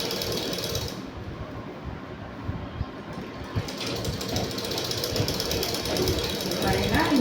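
Sewing machine stitching a lungi, producing a continuous rapid mechanical chatter at moderate distance throughout.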